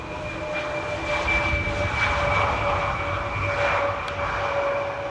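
A China Cargo Airlines jet arrives at Amsterdam Airport from Shanghai, its engines a steady, moderately distant roar with a whining tone, swelling slightly as it approaches.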